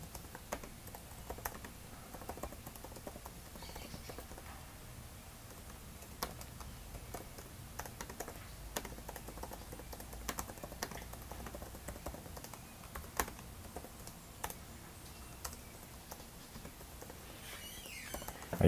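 Fingers tap steadily on a computer keyboard while a note is typed, with soft, irregular clicks at close range and no speech.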